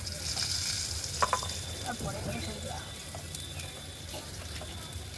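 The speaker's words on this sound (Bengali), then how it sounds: "এবার বৌদি ভালো করে মটনটাকে মাখিয়ে নিচ্ছে" Marinated mutton is squished and kneaded by hand in a bowl, giving soft wet squelching and slapping sounds with a few sharper knocks, under continuous background noise and a voice talking.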